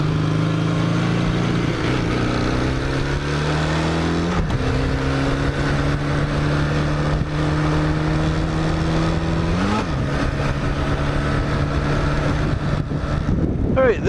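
A 1980 Kawasaki LTD440 motorcycle engine running, a steady close drone with a couple of pitch shifts as revs change, continuous throughout with some indistinct voice mixed in.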